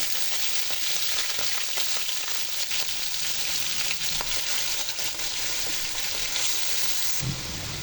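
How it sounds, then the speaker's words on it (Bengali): Goat liver frying in hot oil in a wok with no spices, giving a steady, loud, continuous sizzle and crackle throughout, close up and without voices. "কলিজাটা তেলে যখন ভাজা শুরু করলাম"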